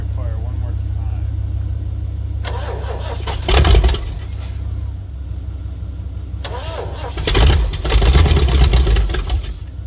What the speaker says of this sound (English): Just want to hear it fire one more time